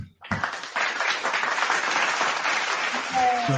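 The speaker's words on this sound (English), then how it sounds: "So let's give Mercedes Moné some applause." A short burst of crowd-style applause and clapping, fairly loud and continuous, with a voice speaking briefly near the end.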